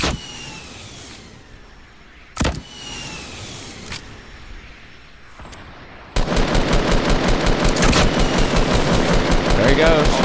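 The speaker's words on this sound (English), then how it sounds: "Ooh, sniper shots." Gunfire in Fortnite: a single sharp sniper crack early, a quieter shot later, then a loud sustained rapid-fire burst of automatic gunfire in the last few seconds, with game engine noise underneath.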